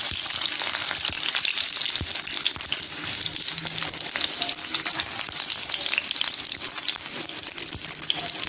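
Food frying in a pot over a freshly lit flame, a steady dense sizzle with faint watery clatter running throughout, close and continuous with no talking.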